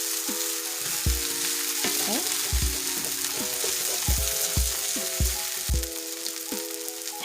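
A squash stuffing mixture cooks in a pan over medium-low heat, giving a steady close sizzle with scattered stirring scrapes, heard alone under a humming background tone.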